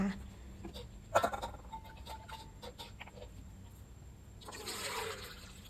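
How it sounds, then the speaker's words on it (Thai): Plain water is poured over pounded yanang leaves and then strained, while an Isan-style bamboo shoot curry is being prepared. The faint splashing and trickling comes in quiet bursts, with a louder pour near the end. "เราก็จะเทน้ำเปล่าลงไปค่ะ พอเทน้ำเปล่าลงไปแล้วนะคะ ตามด้วยเราก็จะกรองน้ำยานางของเราค่ะ"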